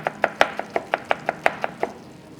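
A chef's knife slicing a red onion into thin julienne on a cutting board, about a dozen crisp, evenly spaced cuts in quick steady rhythm, close and clear, with no talking.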